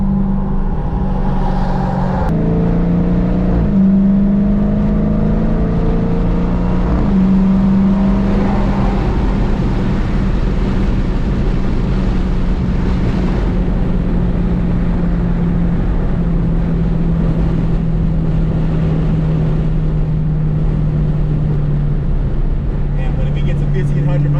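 A Dodge Hellcat wide-body car, still in its break-in period with about 1200 miles, accelerating hard: a loud droning engine note rises and falls through gear changes inside the cabin while people talk over it.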